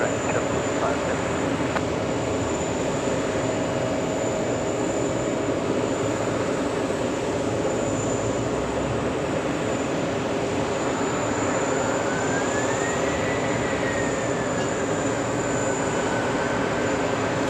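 A jet taking off from runway 22 right at JFK Airport under a steady broad engine roar heard from a distance, with a rising whine in the second half and faint radio chatter underneath.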